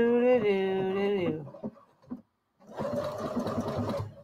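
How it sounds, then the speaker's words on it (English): A Brother HC3010 sewing machine hums as it stitches along the outer edge of fabric, after a voice hums a melody; the motor runs steadily for over a second after a brief pause. "So I'm sewing along the very outer edge."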